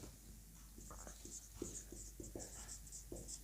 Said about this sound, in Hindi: और यहां लिख देता हूं मैं